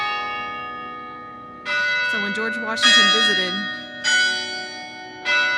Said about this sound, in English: Oh, look, the bells are going off.